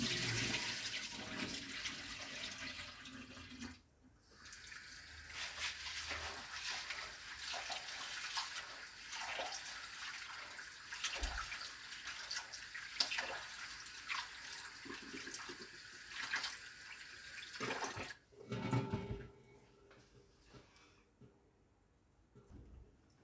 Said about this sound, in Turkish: Pirincimizi güzelce yıkadık.